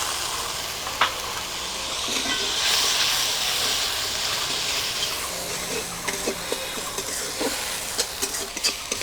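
Mustard paste sizzling in hot oil in a pan, with hilsa roe and brinjal nearby in a Bengali mustard curry; a steady hiss with occasional crackles and stirring clicks, fairly close, with no voices.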